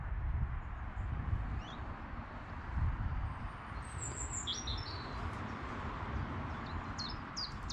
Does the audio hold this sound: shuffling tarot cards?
no